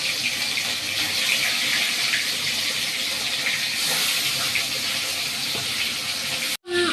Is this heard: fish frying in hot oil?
yes